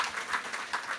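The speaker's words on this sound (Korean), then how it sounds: "오직 하나님께 영광의 박수 다시 한번 올리겠습니다." A church congregation at an elders' morning prayer meeting claps in a brief, steady burst of many hands at moderate distance.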